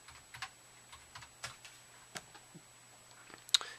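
Scattered keystrokes on a computer keyboard used to play Doom on a Picade Mini arcade cabinet, a few soft irregular taps over several seconds with one sharper click near the end, heard alone at low level.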